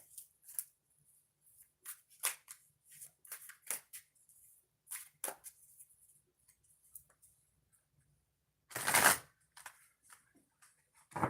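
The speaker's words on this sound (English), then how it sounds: "I'm going to do some shuffling and then we'll get to the next oracle reading" Oracle cards being shuffled by hand, giving a run of quick irregular riffling clicks and flicks with pauses between, plus one louder burst of riffling near the end, close and with no talk.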